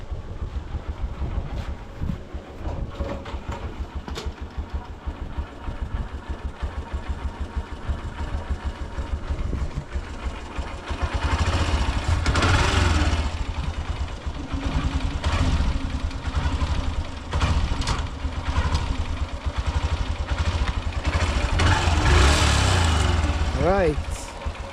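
A motorbike engine idling and running nearby, a steady low throbbing hum that grows louder partway through, with wind buffeting and people talking over it.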